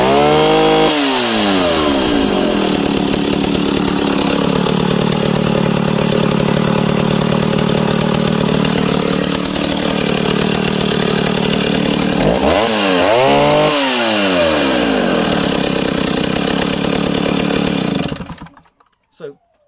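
A vintage West German Stihl 08S forestry chainsaw runs and cuts through wood, a loud close two-stroke snarl with rises and dips in revs as it bites, then it shuts off and falls silent.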